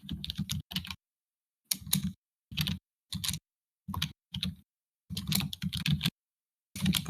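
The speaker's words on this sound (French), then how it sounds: "pardon pour le clavier." Bursts of clattering typing on a computer keyboard come in short runs separated by pauses. The keystrokes are close and crisp, and no one speaks.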